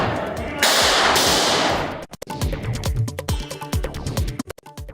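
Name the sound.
gunshots in mobile video of courtroom shootout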